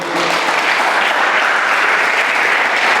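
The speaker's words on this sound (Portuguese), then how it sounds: "Podia dar um amém, um glória, um aplauso a Jesus aí." Sustained, loud applause from a church congregation during a Portuguese-language evangelical sermon, a dense, even wash of clapping filling the whole stretch with no talk over it.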